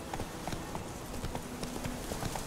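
Horse hooves clip-clop in The Witcher 3, a quick, even trot of light knocks over a constant game ambience, with no voices over it.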